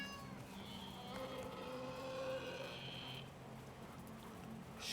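A cat meows in the survival video game Icarus: a quiet, drawn-out tonal mew rising and falling over a soft, steady background of game ambience.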